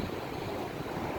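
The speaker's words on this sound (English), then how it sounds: "The ocean is so beautiful. It's kind of rough, but it's not too strong." Rough ocean surf at Sayulita, Mexico, a continuous broad wash of breaking waves with some wind noise, steady and moderately loud, with no voices.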